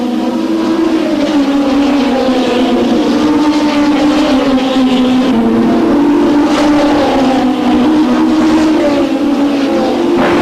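Several race cars bunched together down a straight make a loud, continuous engine roar whose pitch wavers slightly as they pass, with no pauses.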